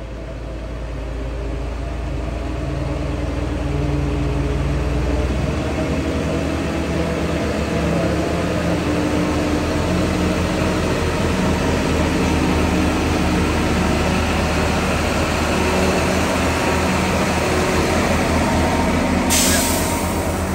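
A Mitsubishi Canter truck engine labours under heavy load, a loud, continuous low drone with steady rumble that holds for the whole stretch, close by, with no talk over it.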